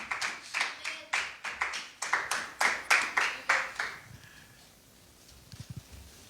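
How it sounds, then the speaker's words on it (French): A church congregation claps in a steady run of sharp, fairly loud bursts for about four seconds, then the applause dies away into quiet room tone. "acclamons, acclamons, acclamons encore une fois"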